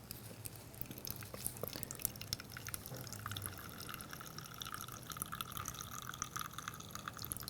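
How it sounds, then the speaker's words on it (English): Gasoline drains from a Honda Ruckus scooter's carburetor bowl through the opened drain screw: continuous faint trickling and dripping, with a few scattered clicks and a low background hum throughout. "You undo that. And let all the gas pour out."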